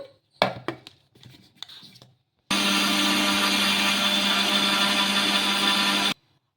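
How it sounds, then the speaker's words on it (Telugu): A few sharp clatters and taps, then a mixer grinder grinding semolina starts and roars at a steady, loud pitch for several seconds before stopping abruptly. "దీన్ని మెత్తగా మిక్సీ అయితే పట్టేసుకుందాం ఇప్పుడు"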